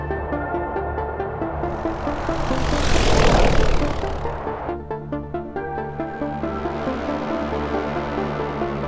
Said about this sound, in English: a medical AED drone has been dispatched.